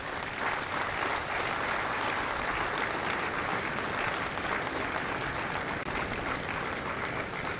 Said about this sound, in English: Ladies and gentlemen, a round of applause for the families of Company F.